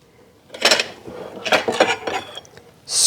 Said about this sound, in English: scrape off these impurities into our bowl